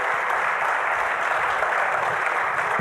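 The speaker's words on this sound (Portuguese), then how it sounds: "Aplauda esse Deus maravilhoso, querido." Dense, continuous applause from a church congregation during a worship service, loud and steady throughout with no break.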